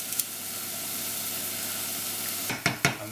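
Garlic sizzling steadily in a hot pan for pilau rice, with a continuous frying hiss broken near the end by a few sharp stirring scrapes and crackles.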